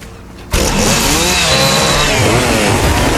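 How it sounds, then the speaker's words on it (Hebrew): A chainsaw in Fortnite's Halloween mode roars to life abruptly and keeps running loud and close at a steady, buzzing high idle with a gritty motor rasp. "למה יש לנו מסור?"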